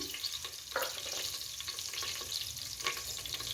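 Cumin seeds and a bay leaf sizzle in hot oil for pulao, a soft, steady frying crackle with a few small pops and stirring scrapes, close and quiet, with no voice.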